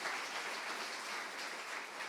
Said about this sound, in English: Another round of applause for all these recipients.